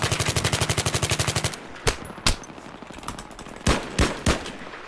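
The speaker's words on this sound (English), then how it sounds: "Okay, I'm being shot at." Gunfire in the shooter game Battlefield 3: a rapid machine-gun burst for about a second and a half, then several separate loud gunshots spaced irregularly, with no talking.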